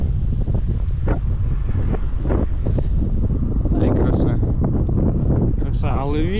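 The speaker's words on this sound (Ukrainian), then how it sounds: "Настільки сильний вітер, що місцями майже зупиняє." Strong wind buffets the microphone in a constant loud roar, with gusty rumbling and a few faint higher whistles near the end.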